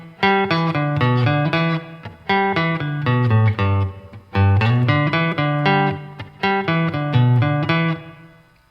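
Electric guitar plays the first line of the lead figure from a song, a quick run of picked single notes in repeating phrases, close and alone.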